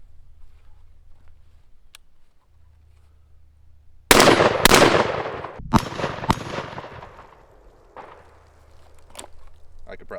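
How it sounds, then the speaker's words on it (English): Stoeger Double Defense side-by-side 12 gauge shotgun fired in a quick string of several loud blasts, each with a sharp crack and trailing echo, then a couple of fainter pops among quiet background hum. "Let me take a couple more shots here."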